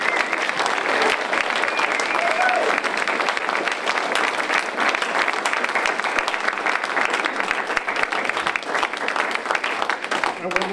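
A concert audience applauds after the last song of a banjo and ballad set, a dense, sustained round of clapping close and loud throughout, with some voices mixed into the crowd noise.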